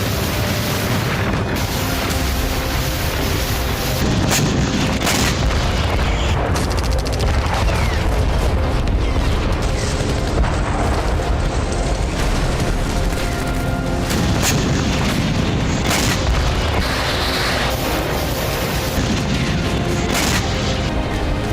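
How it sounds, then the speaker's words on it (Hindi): Explosions from Russian missile strikes in Ukraine, heard as loud, continuous booming and rumbling blasts that come one after another and make a dense, chaotic roar with no talking over it. "जहां जहां रशियन मिसाइलें गिरी वहां सब कुछ तहस नहस हो गया"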